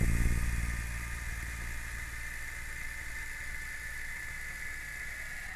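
A person imitates a helicopter rotor with the mouth, a continuous buzzing, wobbling drone that starts a little louder and then settles into a steady, fairly quiet flutter with no words.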